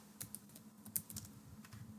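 Quick bursts of typing on a computer keyboard, irregular clusters of light key clicks close by and fairly quiet against a low background hum.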